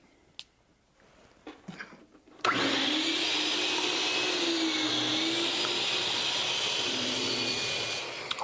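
A power saw cuts a wooden workpiece to length while a fountain-pen display stand is being built. After a few quiet knocks the saw starts abruptly into a loud, steady whine that dips slightly in pitch under load, with no talking.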